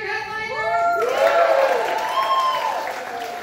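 Comedy club audience applauding and cheering as the evening's headliner is brought to the stage, a steady broadband clatter of clapping with a voice speaking over it.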